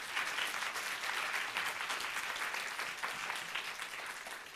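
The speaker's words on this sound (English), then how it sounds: "I think the whole panel deserves a big round of applause" An audience at the Social Enterprise Summit 2018 closing session applauds the panel with sustained, dense clapping that stays even throughout and sounds fairly quiet and distant in the hall.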